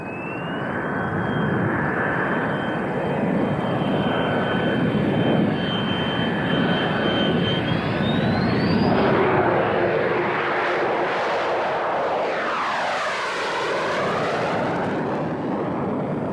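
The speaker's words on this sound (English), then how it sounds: "the first F-16 is rolling at this time" A loud F-16 fighter jet engine roars and rises in pitch as the aircraft spools up and takes off, the rumble sweeping past and fading.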